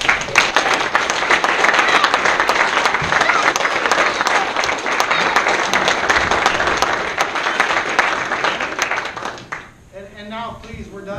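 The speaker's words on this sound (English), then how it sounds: "let's have one more round of applause" Audience at a Shoshone Fire District volunteer appreciation dinner gives a sustained round of loud, dense clapping that fades out near the end, followed by a voice speaking.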